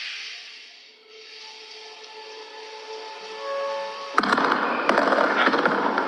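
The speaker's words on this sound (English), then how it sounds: "Okay, those are fireworks." Fireworks go off outside a house, a soft hissing wash building up, then a loud sharp crackle of bursts and pops in the last two seconds.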